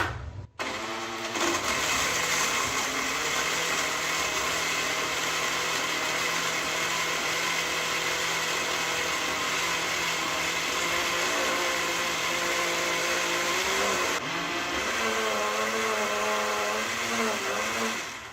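A blender whirs steadily at high speed, mixing mango, yogurt and other ingredients into a mango lassi. The motor runs loud and continuous for most of the time, then its pitch shifts and wavers near the end as the blend thickens.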